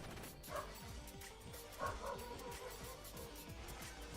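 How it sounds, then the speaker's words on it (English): A small dog yips and barks in short bursts, fairly close, over a steady mechanical hum with rhythmic clicking in the background. "Poppy, what are you barking at?"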